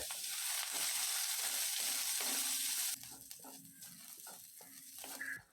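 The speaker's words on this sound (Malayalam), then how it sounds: "ഈ ചേർത്ത് കൊടുത്ത സവാളയും അതുപോലെ ക്യാരറ്റുമെല്ലാം നന്നായിട്ട് വഴണ്ട് കുഴഞ്ഞു വന്നിട്ടുണ്ട്" Chopped onion and carrot sautéing in a pan for a Kerala kozhukkatta filling, with a steady sizzle and repeated spoon scrapes and stirs; the sizzle is loud for the first three seconds, then softer.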